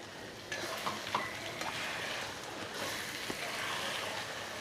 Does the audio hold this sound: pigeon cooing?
no